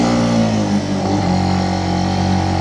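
A Benelli BN125 motorcycle labors uphill in first gear on a steep, bumpy pass, its small single engine droning loud and close with a steady strained pitch that wavers briefly.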